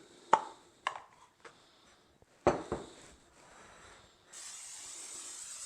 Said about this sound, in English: we're going to spray it with some baking spray